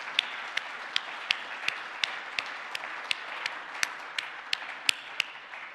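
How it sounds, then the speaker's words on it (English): Applause during an online members' meeting: a steady, evenly paced run of crisp claps sits over a continuous background hiss, moderately faint and with no pauses. "So a big round of applause to all of you"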